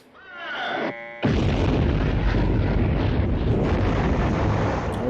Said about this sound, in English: Those are some big ass guns.